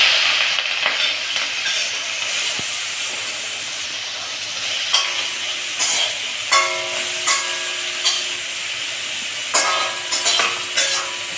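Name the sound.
prawns frying in a hot wok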